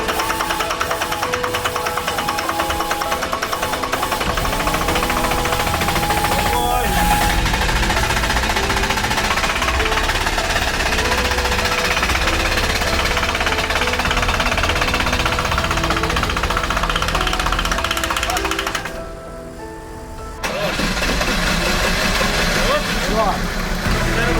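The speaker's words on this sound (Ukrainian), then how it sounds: "І зараз будемо намагатись зробити перший старт двигуна вже повноцінно." A Jeep Grand Cherokee WJ engine starts and runs loudly and steadily with a rough, knocking idle, briefly dropping in level near the end before roaring back.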